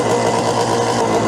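A race car engine idles at a fairly high RPM, producing a steady, loud, close-up drone with a buzzy mechanical tone and no pauses.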